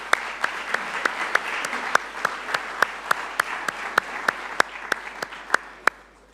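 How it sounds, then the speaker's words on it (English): Applause at a Latin American cities conference in Buenos Aires comes as crisp, evenly spaced claps repeating about three times a second over a soft bed of lighter clapping, ending abruptly. "let's give him a virtual round of applause"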